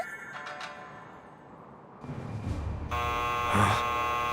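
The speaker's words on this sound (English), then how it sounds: "A buzzer, I think." A buzzer in a Gilgamesh video game cutscene, a droning electric buzz that shifts in pitch and grows louder toward the end, layered with humming tones and no talking.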